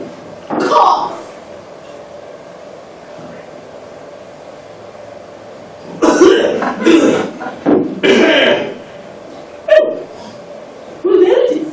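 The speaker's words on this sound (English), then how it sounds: "I want a serious cough, and I want it right now." A person coughing on demand, several short harsh coughs and throat-clearing bursts in separate clusters, loud and close, with a quiet hum between them.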